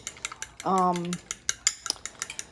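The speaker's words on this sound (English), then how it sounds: "I'm just going to whisk them until they become completely" Raw eggs whisked together in a bowl for a bacon and cheese omelette, heard as quick irregular clicks and taps of the whisk throughout, broken by a short steady humming tone partway through.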